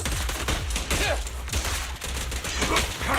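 Rapid gunfire in Zenless Zone Zero, a steady close barrage of shots with dense rattling bursts running through the whole stretch under layered game effects.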